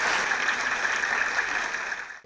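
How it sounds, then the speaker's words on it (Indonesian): Applause for Prof. Aryawan from a studio audience on an Indonesian talk show: steady, even clapping of moderate loudness, fading at the very end. "kita berikan aplaus yang meriah"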